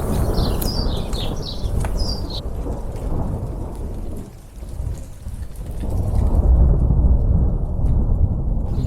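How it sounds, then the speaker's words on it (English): Thunder rolls from thunderstorms surrounding a spring homestead cottage, a loud, deep rumble over steady rain with a few bird calls early on, swelling again near the end. "there are thunderstorms everywhere around us"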